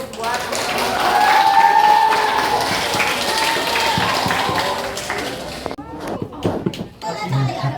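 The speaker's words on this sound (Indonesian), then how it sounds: "beri tepuk tangan dulu" A room of school students at a reading event breaks into applause, a dense clatter of clapping that fades after several seconds into scattered claps and voices.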